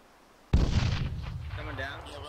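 Burst fire from an M249 machine gun in the ArmA 3 military shooter, starting with a sudden loud crack and then a dense rolling roar of shots and echo under combat chatter.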